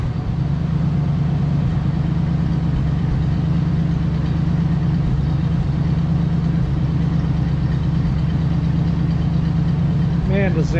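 A 1959 Cadillac with a 394 engine idles steadily, a loud, close low rumble that holds constant throughout.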